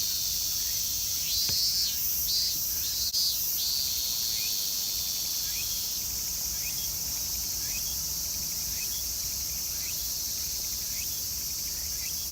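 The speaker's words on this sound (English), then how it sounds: "I'm sorry about these cicadas, you guys." Cicadas buzz outdoors in a steady, loud, high drone that lasts throughout, with faint repeated chirps layered over it.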